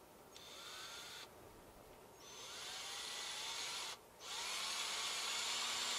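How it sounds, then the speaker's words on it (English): A power drill runs a small pilot bit through pre-drilled holes during an Equalizer hitch install, whining steadily in several bursts with brief pauses between, close and alone. "I always like to just run a small pilot bit through to make sure all my holes are still straight and square"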